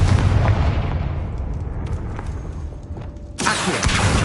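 A Confringo spell blast in Hogwarts Legacy: a loud fiery boom that decays into a rumbling tail, then a second sharp burst of noise near the end, with no talking.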